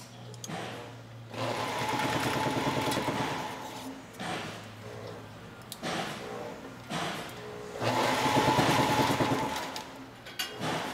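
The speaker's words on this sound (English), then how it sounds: "When the operator reaches a harness mounting clip, he slows the machine so that he doesn't tape over the point of the clip." A taping machine wraps an automotive wiring harness, whirring in sustained bursts that speed up and slow down with brief pauses between, loud and close with a mechanical rattle.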